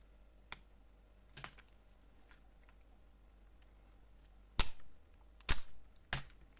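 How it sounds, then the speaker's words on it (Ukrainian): Double-sided tape is peeled away from a Dell Latitude E5520 laptop keyboard during repair, giving a few sharp, isolated ripping snaps separated by quiet pauses, the loudest bursts clustered near the end. "Знімаємо наш скотч."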